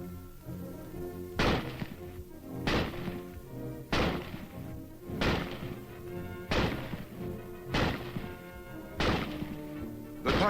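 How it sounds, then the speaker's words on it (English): A Springfield rifle fires from a prone position in eight sharp, heavy reports at roughly even intervals, each a loud crack with a quick decaying tail. "The rifle is first demonstrated being fired from a prone position."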